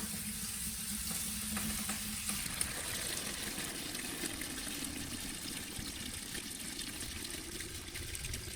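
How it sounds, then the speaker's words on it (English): Water draining from the drains of a Langmuir Systems CrossFire Pro plasma cutting table into a bucket, a steady faint trickle and hiss running continuously with no talking. "let the water flow right in the bucket"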